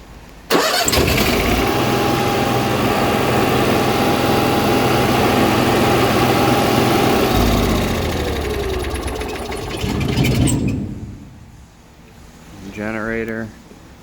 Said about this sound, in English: Generator just to the left